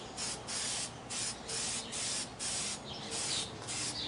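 Spray paint applied in another coat to a 3D-printed dinosaur, around eight short hissing bursts in an even rhythm separated by brief pauses, close and clear, with no talking.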